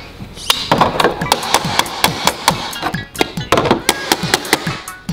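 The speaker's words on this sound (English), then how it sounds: "Do you have the hammer, Jenny?" Rapid, sharp taps of a toy hammer strike a hard surface in a quick uneven rhythm, close by, with faint background voices.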